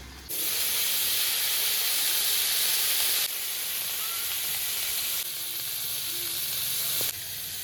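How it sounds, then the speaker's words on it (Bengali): Green chili, long beans, flat beans and cut potato frying in hot oil, giving a loud, steady sizzle that drops a little in level partway through and continues alone without any talk. "কাঁচা লঙ্কা ফোড়নে দিয়ে দিলাম। সঙ্গে এবার আগে থেকে কেটে রাখা বরবটি সিম আর আলুটা।"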